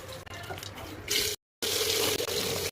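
Tap water runs and splashes steadily into a vessel while mutton cooks with onions and whole spices. The pour is close and fairly loud, with a short break before it resumes.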